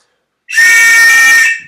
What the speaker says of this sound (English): One long whistle.